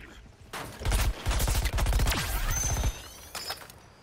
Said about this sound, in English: Kind of a burst gun, but it's still good.